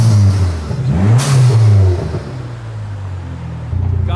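A modified 2023 Honda Civic Type R FL5 with stage 2 clutch, intake, cams and MSD ignition revs hard, its engine note rising and falling in a loud, close sweep before settling into a steady idle.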